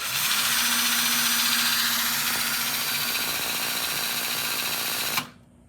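A vintage British motorcycle engine is spun over without starting, producing a loud, steady whirring mechanical drone with rapid rhythmic ticking that holds for about five seconds, then cuts off abruptly into near silence.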